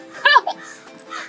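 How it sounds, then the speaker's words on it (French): A close crow-like caw outdoors, a few harsh calls early on followed by a softer one, with a voice nearby. "Est-ce que tu peux entendre le oiseau? C'est proche."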